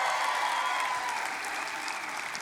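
An audience at a church service claps and cheers together, a dense, loud, sustained wave of applause that holds evenly throughout.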